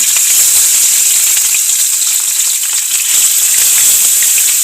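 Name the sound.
food frying and splattering in hot oil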